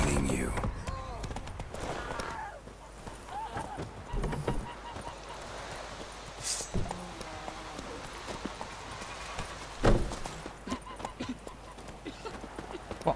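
Horse hooves clip-clop in The Witcher III, an uneven series of hoof thuds mixed with snorts and game noises, with voices speaking in the background.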